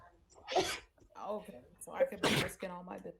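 A single sharp sneeze bursts out near the start amid a casual conversation, with people talking before and after it.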